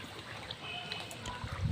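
Water running in a river flows steadily and softly through the whole short stretch, a continuous gentle trickle with a low murmur and no voices over it.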